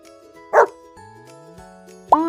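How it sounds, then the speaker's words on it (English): A dog barks twice, two short, separate yips about a second and a half apart, set against a sustained tonal music bed with no talking. "The dog is big."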